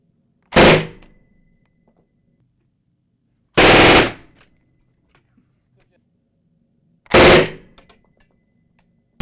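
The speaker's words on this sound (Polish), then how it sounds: "Zaraz sprawdzimy, czy nic tak nie cieszy jak seria z pepeszy." PPSh submachine gun fired outdoors in three loud, short bursts a few seconds apart, each a sharp crack with a brief fading tail, separated by near silence.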